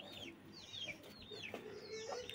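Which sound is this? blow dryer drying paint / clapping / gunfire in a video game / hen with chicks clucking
hen with chicks clucking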